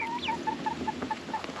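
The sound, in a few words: chicken clucking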